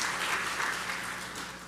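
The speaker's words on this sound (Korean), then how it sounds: "다시 한번 사랑과 격려의 큰 박수 부탁드립니다" A congregation applauds in a church during a worship service, a dense, steady wash of many hands clapping with no voices on top.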